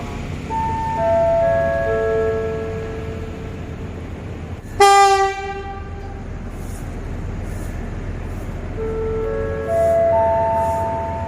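Ordinary train 254 arrives at Ratchaburi station in Thailand amid station ambience, with a loud, sharp horn blast midway, flanked by repeated melodic chime tones before and after, over a low rumbling background.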